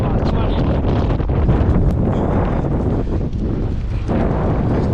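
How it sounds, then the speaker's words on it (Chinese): Strong, gusting wind buffets a cyclist's microphone on a high plateau road in Ngari, Tibet, a loud continuous roar that drowns everything else, with a voice barely emerging through the noise. "风太大了。"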